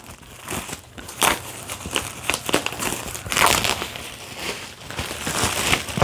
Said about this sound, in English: But let's take the plastic off right now.